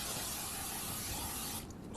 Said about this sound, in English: I'm going to take some Pam, and I'm just going to spray our pan to get it coated